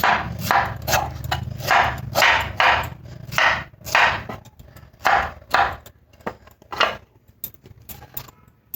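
A knife cuts raw green mango flesh away from the seed, giving a run of crisp, close slicing strokes in an irregular rhythm with short pauses between cuts and no voice.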